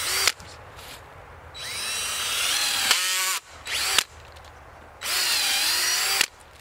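Cordless drill boring fast into the woody stem of an invasive plant at a downward angle, three close, loud bursts of whining motor with a short ratcheting clutch rattle between them.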